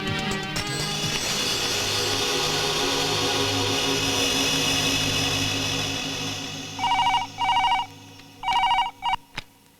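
A telephone rings in short repeated bursts near the end, four rings cutting through a steady droning hum that fills the room beforehand.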